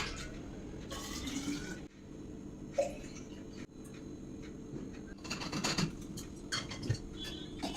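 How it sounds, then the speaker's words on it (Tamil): Water pours into bottles indoors in several separate bursts of gurgling fill, broken by short pauses and faint knocks; the sound is quiet and close, with no talking. "பாட்டில்ஸ்லாம் கொஞ்சம் தண்ணி ஃபில் பண்ணுமா."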